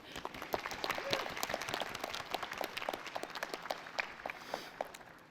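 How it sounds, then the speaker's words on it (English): Audience applause at a 2021 college commencement ceremony: a fairly faint, steady spatter of many hands clapping across several seconds, heard from a distance with no speech. "You guys deserve a huge round of applause."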